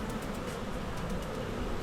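Bees swarm in a spring bee yard, a loud, dense, continuous buzzing drone with passing individual bees flying close by, steady throughout with no talk.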